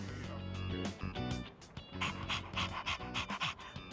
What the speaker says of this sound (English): He doesn't bite, does he? I'm actually a little afraid of dogs.